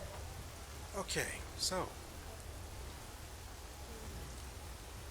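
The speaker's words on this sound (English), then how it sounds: "it is raining out here." Steady rain and storm ambience in the fantasy game Enderal hisses softly and continuously beneath a brief spoken phrase near the start.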